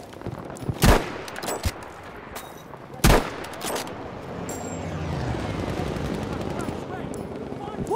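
Machine gun fire in a Battlefield V battle: a few loud, sharp bursts of shots close by, then a steady roar of distant fighting with rumbling blasts, and voices shout over the fighting.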